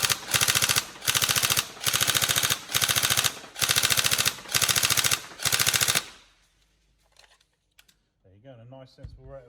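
Tokyo Marui 416 Delta airsoft electric gun with recoil system fires six rapid full-auto bursts, loud and close, then a faint mechanical click and a brief voice at the end.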